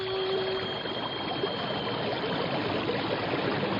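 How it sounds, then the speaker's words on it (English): A steady, dense rush of swirling water from a whirlpool, staged as a radio drama sound effect, roars continuously at an even level throughout with no voices. "what's that noise? It sounds like a giant waterfall."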